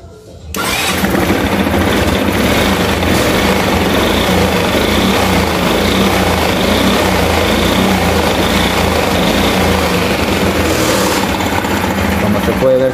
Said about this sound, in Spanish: Voy a acelerar la moto y ese foco no tiene por qué quemarse.